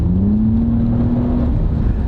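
Toyota Camry accelerating from inside the cabin: a smooth, moderate engine hum rising slowly in pitch over steady road rumble, with no talk.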